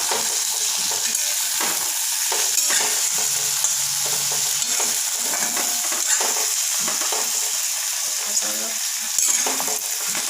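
Spices including cumin powder and pepper powder frying in a pan for chilli chicken, a loud continuous sizzle with irregular stirring scrapes throughout, no talking.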